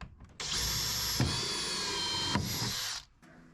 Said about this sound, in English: So I'm going to finish this install by drilling a hole.